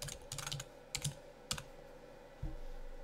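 Password tapped out on a computer keyboard in short clustered bursts of light key clicks with brief pauses between them, close and fairly quiet.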